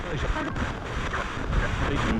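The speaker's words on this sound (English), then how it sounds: "It's a bit windy. I hope you're not getting the wind" Wind blowing hard into a microphone outdoors during a paranormal investigation at Roe Valley Hospital, a continuous rough buffeting rush with no clear breaks.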